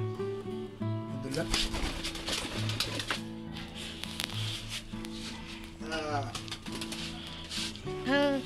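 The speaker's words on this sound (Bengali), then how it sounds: "এটা হলো আমার সাদা ঘুঘু।" White Australian dove cooing in a home aviary, low repeated coos in a slow rhythm, close by, mixed with rustling, clattering sounds and a person talking nearby.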